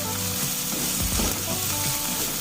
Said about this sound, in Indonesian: Tumis lagi bersama dengan bawang putihnya. Nah, kita aduk-aduk seperti ini.